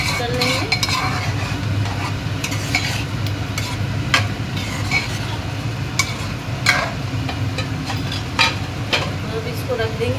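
A butter chicken mixture stirred in a pan with a spoon, scraping and clinking against the metal in irregular strokes over a low, steady sizzle, close and fairly loud.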